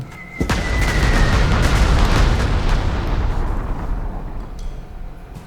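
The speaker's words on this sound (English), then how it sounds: "May as well bombard or bomb this guy" A bombing attack in Panzer Corps 2, a World War II strategy game: a sharp crack opens into a long, loud, rumbling explosion that slowly fades.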